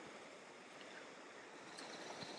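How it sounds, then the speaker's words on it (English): Strong stream of water running hard after heavy non-stop rain, a steady broadband rush that stays fairly even and close throughout, with no voices. "the water is running quite strong today"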